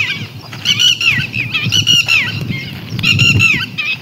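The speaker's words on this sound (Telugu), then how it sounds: "మధ్యలో పక్షుల కిలకిలాలు." Geese and other birds honk and squawk loudly and repeatedly close by at a lake, in overlapping bursts with no one speaking.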